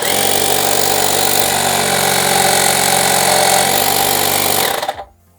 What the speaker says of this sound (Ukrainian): Працює, не сказав би, що тихо або дуже гучно, е, але в той же час е, хороший потужний потік повітря видає даний компресор